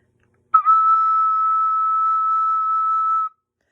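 A single clear, pure high note from a soprano recorder, held steadily for about three seconds, alone in silence.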